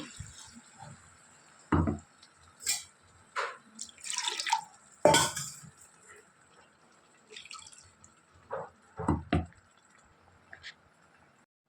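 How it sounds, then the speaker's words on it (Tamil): Irregular splashes and drips of water poured into a mixer jar, arriving in uneven bursts with quiet gaps between them. "அந்த மிக்சிலே தண்ணி ஊற்றிக்கலாம்"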